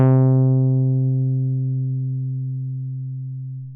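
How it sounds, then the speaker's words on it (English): A lone computer-synthesized string-like note built from a simulated string's harmonics, bright at the start as its upper overtones die away quickly, leaving a mellow hum that slowly fades. "If we put the ones from my simulated string together in a computer"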